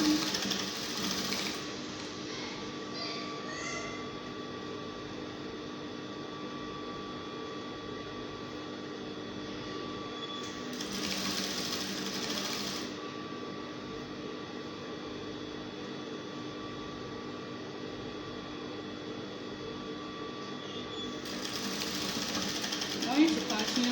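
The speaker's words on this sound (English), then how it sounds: "I'm going to continue sewing until I get to the end of the peplum" A sewing machine runs steadily, stitching crinoline onto a fabric peplum, its motor whir continuous and fairly close, with brief shifts in pitch as the fabric is eased along.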